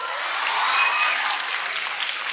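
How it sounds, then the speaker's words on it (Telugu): Steady applause from a college student audience at a film promotion event, dense continuous clapping from a large crowd filling the space, loud and sustained without speech. "క్లాప్స్ కొడుతున్నారు ఇప్పుడు"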